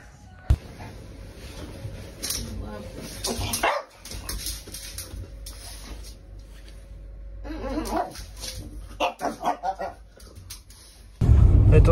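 A dog barks and yips in short bursts indoors, close by and fairly loud, mixed with whimpers and household noise, while people talk intermittently.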